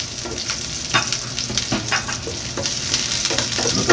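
Onion and celery frying in oil, a steady close sizzle with scattered stirring scrapes and pops, growing slightly louder toward the end; no voices.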